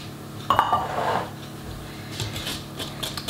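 A utensil clinks and scrapes against a bowl while plum cake muffin batter with vanilla is stirred, giving a sharp knock followed by softer irregular taps and scraping nearby.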